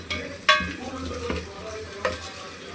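Turmeric being stirred into mutton curry frying in a pan: soft sizzling throughout, broken by a few sharp scrapes and clinks of a spoon against the pan.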